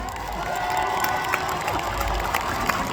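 A cosplay festival audience at the French cosplay cup final in Tours cheering and applauding, a dense, steady crowd roar with scattered shouts and whoops and sharp clapping throughout, fairly loud and continuous.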